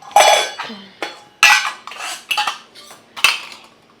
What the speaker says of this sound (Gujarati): અહીંયા વાસણ પડ્યા છે પ્લેટફોર્મ ઉપર